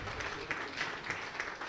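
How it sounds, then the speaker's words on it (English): At a club retreat in Nigeria, a room of people applauds in a short, soft, even patter of clapping, fairly distant and quiet. "Let's clap for IPP."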